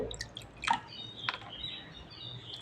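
A small splash of water drips into a bowl of flattened rice (chira), semolina and sour yogurt batter, heard as a few brief, faint droplet taps and trickles close by in a quiet kitchen.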